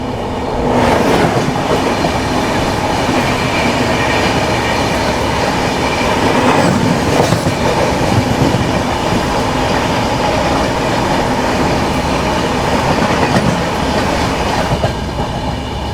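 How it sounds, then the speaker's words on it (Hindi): The Sriganganagar–Trivandrum Express passes close by on the tracks, a loud, continuous rumble with rhythmic clickety-clack from the wheels and faint squeals, heard from a train near Varkala. "श्रीगंगानगर त्रिवेंद्रम एक्सप्रेस।"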